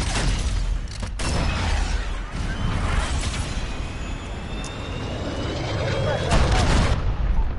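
A missile strike in the Call of Duty Modern Warfare beta on PS4 hits with heavy booming blasts and rumbling, layered over continuous battlefield noise and aircraft roar, loud and dense throughout.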